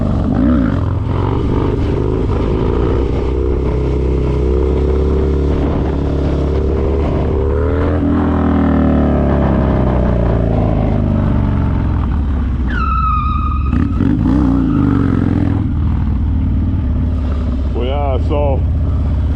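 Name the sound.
dirt bike engine during wheelie practice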